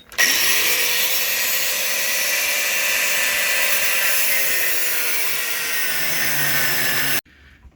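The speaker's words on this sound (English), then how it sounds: "Managed to get the grinder up there to get the nut completely off." Angle grinder cutting through a seized tow bar nut on a Land Rover Discovery 2 Td5, a steady loud high-pitched grinding whine that runs without a break for about seven seconds, then cuts off abruptly.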